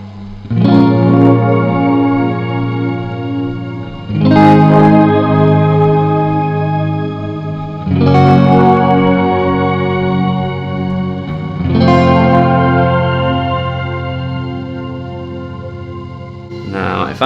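An electric guitar played through a Keeley Caverns V2 delay and reverb pedal sounds four strummed chords at slow, even intervals, each one ringing out loud and washed with lingering echoes and reverb.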